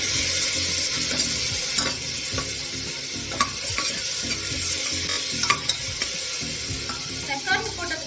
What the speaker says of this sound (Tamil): தக்காளி போட்டு நல்லா மஞ்சள் அளவுக்கு நல்லா வதக்கும்.